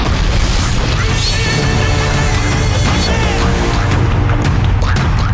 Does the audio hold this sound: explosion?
yes